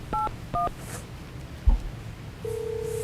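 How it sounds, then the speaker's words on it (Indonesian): A telephone keypad sounds two short dialing beeps in quick succession, and after a pause a steady ringing or dial tone begins. The tones are clear and close, with no talking. "Telepon Kak Elsa ah"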